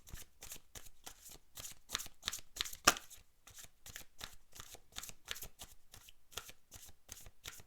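Tarot cards shuffled by hand in a steady series of crisp riffling snaps, close and fairly loud, with one sharper slap partway through and no talking.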